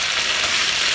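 Ravioli pan frying in a pan, a steady bright sizzle that holds evenly throughout, close and loud with no voices.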